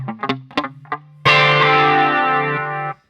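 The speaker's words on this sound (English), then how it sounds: "it was that Electro Harmonix flanger sound" Electric guitar played through an Electro Harmonix flanger with a single delay repeat: a few short picked notes, then one loud sustained chord ringing with swirling, shimmering modulation for about two seconds before cutting off.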